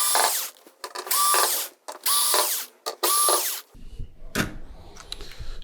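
Power screwdriver backing screws out of a VIZIO V605-G3 TV main board, several close, loud whirring bursts with short ratcheting pauses, then quieter handling and faint clicks near the end.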